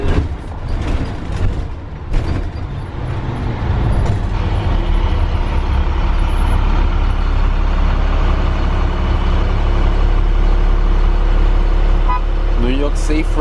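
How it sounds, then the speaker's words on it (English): Yellow school buses pass close by on a potholed street in the early morning, engines rumbling loudly with a brief hiss of air brakes near the end, while people talk over the traffic. "We bringing you the yellow school buses."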